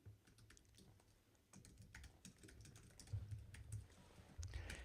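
Someone types a username on a computer keyboard, a quiet close series of irregular key clicks that grows a little louder toward the end, with no talk.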